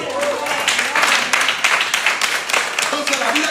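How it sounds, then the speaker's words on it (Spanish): A church congregation applauds during a Spanish-language worship service, with steady, dense clapping filling the room and voices mixed in throughout. "Denle un aplauso a Cristo."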